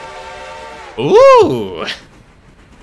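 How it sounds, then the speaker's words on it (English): A short rising-and-falling train whistle from a video game, loud and alone for about a second, with a person exclaiming right before and after. "Is that a new whistle?"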